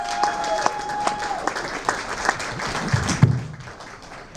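Audience clapping for a live band after an introduction, a short scattered round of applause with a few taps and a thud, while a voice speaks over it.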